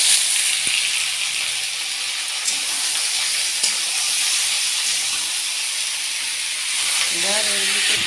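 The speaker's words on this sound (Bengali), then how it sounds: "এতে পেঁয়াজ রসুন সরিষার তেলের মধ্যে একটু ভাজা ভাজা করে নিচ্ছি" Onion and garlic fry in mustard oil, a steady close hiss and sizzle that holds evenly throughout, with no voices.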